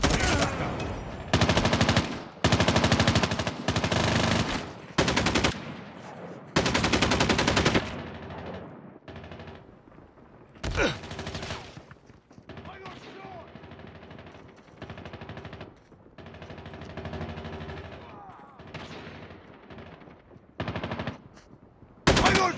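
Bursts of automatic gunfire in Call of Duty Mobile come in several loud, rapid volleys early on, then thin into scattered shots and quieter firing over a steady background.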